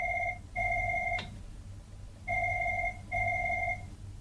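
A telephone ringtone rings in three distinct bursts of a steady two-tone electronic trill, fairly clear and moderately loud over a low background hum, with a short pause between rings.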